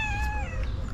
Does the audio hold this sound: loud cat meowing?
yes